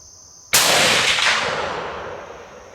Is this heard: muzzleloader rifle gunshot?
yes